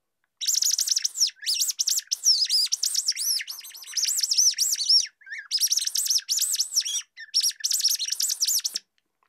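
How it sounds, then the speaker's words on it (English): A very high-pitched whistle with a small rubber end piece and a tiny hole is blown in rapid chirping bursts, trilling and warbling like birdsong, loud and close, with short pauses between phrases and no talking. "Number three has got a little rubber piece at the end with a tiny hole,"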